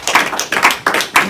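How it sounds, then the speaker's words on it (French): Four or five evenly paced rhythmic claps ring out in a church service, a congregation applauding together in steady beats with nobody speaking over them. "On acclame Jésus."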